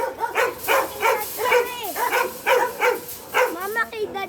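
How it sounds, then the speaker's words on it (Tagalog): Big dog belonging to a grandfather, heard amid farm poultry with a child nearby, giving a string of regular whining, yelping barks and a longer drawn-out whine at the end, close by with faint voices around. "Ang laki ng aso ni Amang,"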